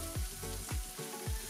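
Onion and tomato paste fry in a pan for beef stroganoff, giving a steady close sizzle with a few soft scraping strokes.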